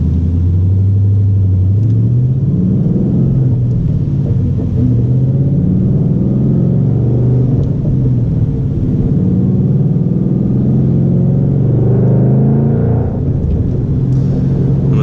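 A 2012 Ford Mustang Boss 302 revs and pulls while driving, its engine a loud, steady low rumble that rises and falls through gear changes without pause.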